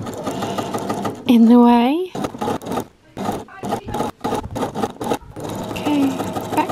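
A sewing machine stitches bias binding onto a raw edge in short close bursts and stop-start runs, with someone talking over parts of it.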